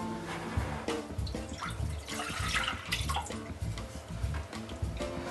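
Milk pours steadily into a saucepan, a soft continuous splashing stream with small clinks, close and fairly quiet.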